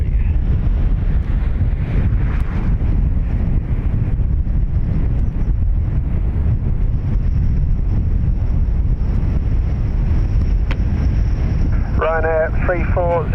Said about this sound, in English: we pick up a little bit of wind crossing the field